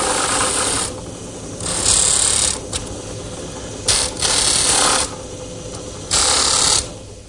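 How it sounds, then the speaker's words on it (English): A drum sander touches up a wooden workpiece, its motor droning steadily while bursts of louder, hissing sanding come and go in several distinct passes, up close and without talk. "just a little bit of touch-up sanding here at the drum sander"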